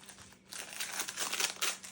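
Small electronic transistors tipped out of a little plastic bag, the bag crinkling and rustling steadily over two seconds with light pattering as parts spill out, close up and fairly quiet.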